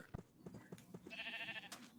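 A sheep in a video game football match, used as the ball, lets out a single wavering nasal bleat after a few soft thuds, fairly quiet and alone.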